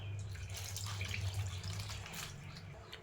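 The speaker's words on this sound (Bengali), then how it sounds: "এখন পানি দিয়ে দিব" Water pours in a steady splashing stream into a pot of chicken and eggplant curry, close by, then tapers off toward the end.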